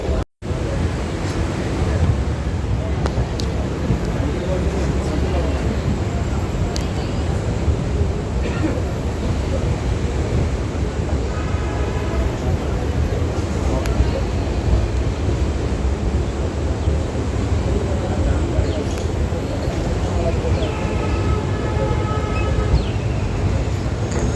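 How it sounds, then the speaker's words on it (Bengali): A Naihati–Ballygunge local train pulls into Prinsep Ghat station, a continuous loud rumbling roar of wheels and carriages with faint squeals and clanks, steady throughout and up close. "ট্রেন এখন আমাদের চলে এসছে প্রিন্সেপ ঘাট।"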